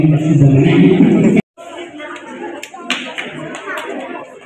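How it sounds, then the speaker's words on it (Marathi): Loud speech cuts off abruptly and is followed by a crowd of townspeople clapping at a public gathering, a textured spread of claps with chatter underneath. "जोरदार टाळ्या"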